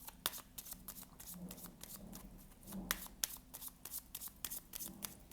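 Tarot cards are shuffled and drawn by hand at close range, with quick papery riffles, snaps and slaps in uneven bursts. A soft voice murmurs faintly underneath.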